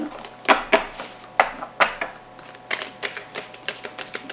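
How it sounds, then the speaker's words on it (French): Crisp papery riffles and snaps of playing cards being shuffled, several quick bursts close by with no talking. "je vais reprendre les cartes, je les mélange et je recommence"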